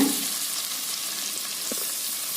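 Two large chopped onions sauté in hot oil for a coriander paneer rice dish, giving a steady, even sizzle with a brief stir scrape partway through and no talking.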